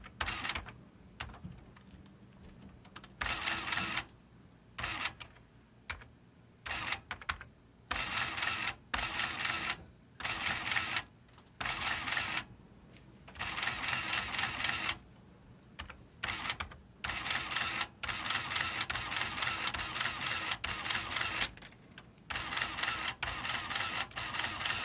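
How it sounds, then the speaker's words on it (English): A 1987 Monroe heavy-duty printing calculator prints in repeated loud mechanical bursts, each a rapid chattering clatter lasting about a second. Short pauses separate the bursts, and no voices are heard. "I just like playing with this thing to make the noise."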